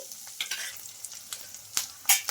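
Onions and curry leaves fry in a pan, giving a close crackling sizzle broken by irregular clicks and scrapes of stirring, with no talking.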